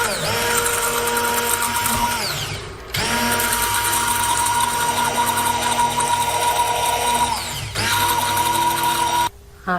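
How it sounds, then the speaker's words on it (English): Electric blender whirring steadily as it mixes a skincare formulation of water and oil phases in a bowl, running loud and continuous with two short pauses before starting again. "Next we'll use a blender to blend this into."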